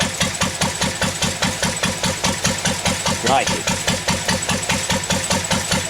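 A small engine runs steadily at close range with a loud, fast, even rhythmic chugging pulse throughout, and a voice briefly speaks over it partway through.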